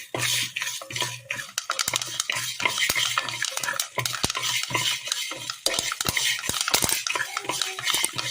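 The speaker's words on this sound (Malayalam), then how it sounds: "ഇത് നല്ലതുപോലെ ഒന്ന് വറുത്തെടുക്കാം" Horse gram dry-roasting in a pan on a Kerala stove, stirred with a metal spoon that scrapes and clinks rhythmically and continuously against the pan, close and fairly loud with no talk.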